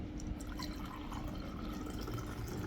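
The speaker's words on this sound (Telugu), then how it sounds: "ఒక గిలాస్ తీసుకోవాలి గిలాస్ నిండా నీళ్ళు పోయాలి ఫస్ట్" Water poured into a glass until full, a continuous close trickle and splash with faint dripping, no talk over it.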